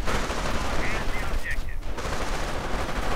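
Thompson submachine gun fire in a World War II real-time strategy game, steady rattling bursts filling the whole stretch over battle noise, loud and sustained with a few faint tonal blips in the mix.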